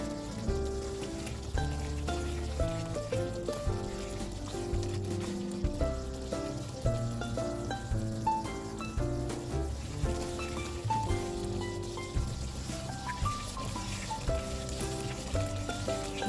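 Curry paste frying in oil in a pan for a Thai pumpkin and pork red curry, a steady close sizzle with crackling spatter running continuously beneath background music.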